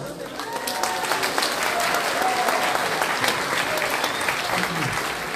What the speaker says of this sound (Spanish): para el cual pido fuertes aplausos